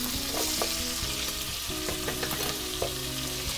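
Green bell pepper and onion sauté in a hot pan for a Cuban congrí, giving a steady loud sizzle with occasional stirring scrapes and clinks throughout, no voices.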